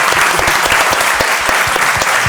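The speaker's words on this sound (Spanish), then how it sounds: "Un aplauso para ellos." Loud, close applause from a conference audience for a panel of speakers, many hands clapping in a dense, continuous patter that stays even throughout without any voices.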